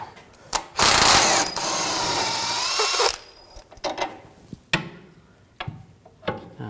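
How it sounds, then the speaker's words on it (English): Ratchet spinning an 18mm socket to back out a bolt during a rear wheel bearing job on a 2007-2013 BMW 328i, a loud sustained burst of clicking followed by several shorter sharp metallic clicks and knocks. "using a 18mm socket, take this bolt out"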